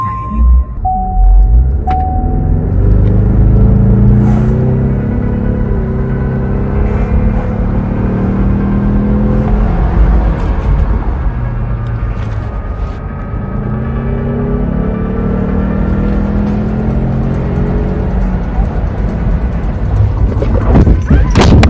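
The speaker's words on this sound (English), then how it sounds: "A few seconds after the alert, there is the sound of a car engine accelerating." Inside a vehicle recorded on a cell phone, a short dashboard alert tone of a few beeps gives way to a loud, rising engine roar and heavy rumble, with the revving surging twice and a voice audible near the end.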